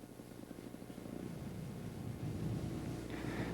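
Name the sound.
Weedhopper ultralight aircraft engine throttling down in flight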